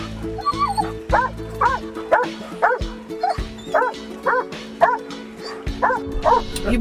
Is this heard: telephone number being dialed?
no